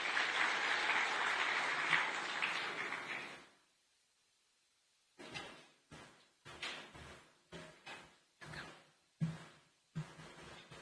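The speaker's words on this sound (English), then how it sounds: "Let's welcome her with a round of applause." An audience applauds a speaker at a conference on children's digital safety in Africa, a burst of clapping that stops abruptly, followed by a run of separate knocks and thuds after a silence.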